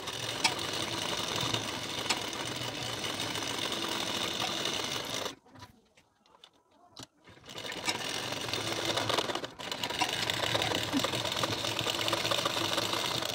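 A sewing machine runs two rows of stitching along the edge of a blouse belt piece: a steady, fast mechanical whir that breaks off for about two seconds midway, then resumes at full speed until the end.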